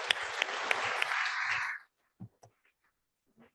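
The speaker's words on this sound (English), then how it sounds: "Big round of applause." Audience applause closing a panel discussion on trends and technologies, a burst of clapping for under two seconds that cuts off abruptly, followed by faint scattered sounds and a voice.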